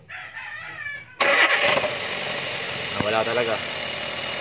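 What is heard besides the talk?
Toyota Avanza engine starting and idling roughly with misfire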